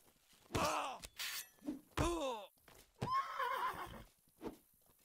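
Horse neighs and whinnies in a combat video game, several loud, close calls with groaning tones and a few thuds between them, no talking over them.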